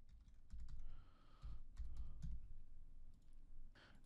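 Password being typed on a computer keyboard, a quick burst of close key clicks in short clusters, quiet and alone with a brief pause before a final few taps.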